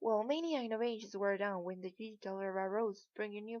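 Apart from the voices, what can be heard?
No everyday noises stand out.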